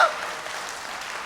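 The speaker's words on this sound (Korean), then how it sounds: "박수 쳐주세요." Church congregation applauding during a Korean worship service, a steady dense wash of clapping from many hands, moderately loud and continuous with no talk.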